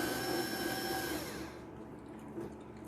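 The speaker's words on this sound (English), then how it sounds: "It's like a pump motor." The pump motor of a partly disassembled Keurig coffee maker runs with a faint, steady electric whine for about a second and a half, then cuts off, leaving quiet room tone.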